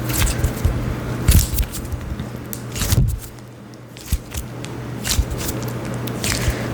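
A NeeDoh squishy toy with air bubbles inside is squeezed by hand, giving soft, repeated squishing and faint popping textures at close range, with a few louder squeezes spread across the stretch and no talking.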